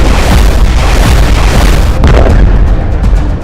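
Ballistic missile strike explosion in the Russia-Ukraine war, a loud, sustained roaring boom with a second crackling burst midway, filling the whole stretch.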